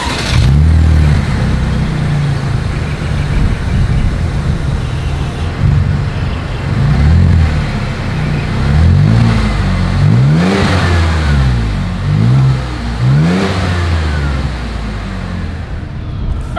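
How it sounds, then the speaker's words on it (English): Exhaust of a 2023 Chevrolet Traverse SUV revved repeatedly, loud and close, with several rising and falling engine swells over a rumbling idle. "As always, here is that exhaust clip."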